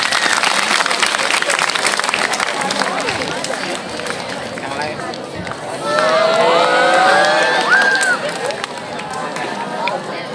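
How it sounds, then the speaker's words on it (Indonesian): An audience at an official religious affairs office visit in North Sumatra applauds in a sustained burst with crowd noise, while voices and cheering come through the clapping. "Tepuk tangan untuk dia."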